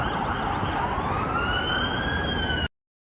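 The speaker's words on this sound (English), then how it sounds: "We have some sirens coming." Wailing emergency sirens rise and sweep steadily over a loud rumble of Toronto street traffic, continuous until the sound cuts off abruptly near the end.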